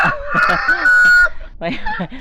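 A rooster crows loudly and close by, one full drawn-out call followed by clucking.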